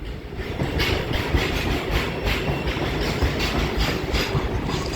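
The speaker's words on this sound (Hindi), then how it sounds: "गजब की रफ्तार में निकली भाई वंदे भारत एक्सप्रेस दुर्ग विशाखापट्टनम" A white Vande Bharat Express on the Durg–Visakhapatnam route rushes past at high speed, close and loud, with a steady roar and a rapid, regular clatter of wheels over rail joints throughout.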